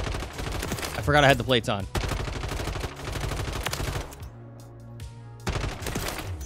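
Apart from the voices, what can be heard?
automatic weapon gunfire in video game Modern Warfare 3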